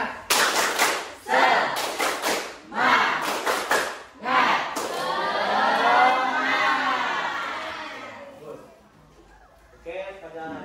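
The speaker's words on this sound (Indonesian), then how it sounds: "Tepuk semangat dulu." A group of students in a school counseling class does a 'tepuk semangat' spirit clap: crisp rhythmic bursts of unison claps, then a long loud group shout, before a single voice speaks.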